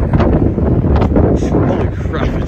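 Strong gusts blast into the microphone outdoors beside a shopping-center parking area, a loud continuous low rumble and buffeting that swells and dips throughout with no pause.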